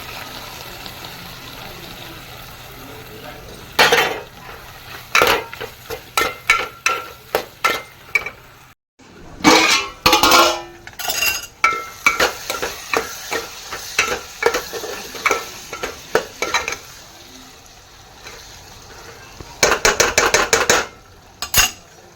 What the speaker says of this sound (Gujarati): મસાલો પકડી ગયો છે, ભીંડા નાખી દઈએ એમાં.